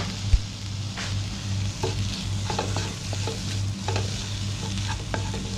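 Tomato goes into a pan of frying spice powders for a brinjal curry, bringing a steady broadband sizzle with scraping stirs and a sharp clack near the start, close and alone with no talk.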